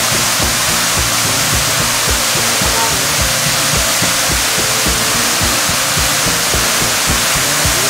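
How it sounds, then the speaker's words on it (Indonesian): Steady, full roar of rushing water, like a waterfall close by, with no voices and no let-up over the whole stretch. "Mereka punya air terjun milik pribadi."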